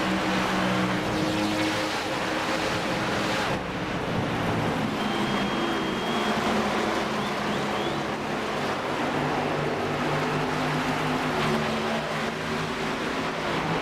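Race car engines in a NASCAR Car of Tomorrow game at California roar steadily at close range, a continuous loud drone with shifting pitch as the cars run the final laps.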